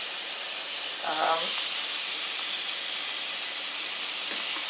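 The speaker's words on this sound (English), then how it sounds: "You can hear it sizzling." Chicken pieces, skin mostly removed, sizzle steadily in a hot skillet for hoisin sauce chicken, a constant hiss throughout with a brief voice mid-way.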